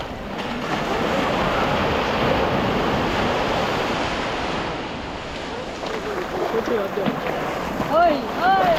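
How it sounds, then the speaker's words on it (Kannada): Ocean waves at Majali beach roll and break steadily in a loud, continuous surf wash with wind buffeting the microphone, and voices join toward the end. "ನೋಡಿ. ಅಲೆಗಳನ್ನು ಇನ್ನೊಮ್ಮೆ"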